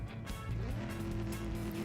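Race car engine in the CSR2 mobile racing game, a steady droning hum with a rising pitch sweep, continuous and fairly close with no voices over it.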